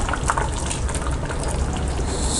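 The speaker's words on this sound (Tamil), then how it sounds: "தண்ணி ஊற்றிக்கலாம்." Water poured into a pot of village-style mutton curry (kuzhambu), a steady broad gushing splash that runs continuously and close up for the whole stretch, with no one talking.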